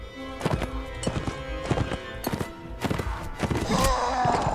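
Horse hooves clip-clop in a steady walking rhythm in a video game, close and fairly loud, with a brief whinny and shifting game sounds toward the end.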